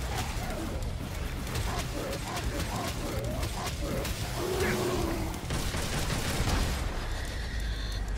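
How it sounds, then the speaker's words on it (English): Shotgun blasts and combat clatter from Devil May Cry 5, sharp bursts buried in a busy, loud game mix of effects and music, with a person talking over it. "Shotgun to the face"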